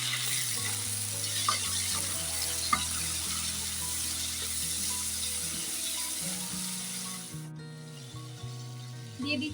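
Cut potatoes and chana dal sizzling in spiced oil for a vegetarian potato curry, a steady close frying hiss with faint scraping and low background music, easing off near the end.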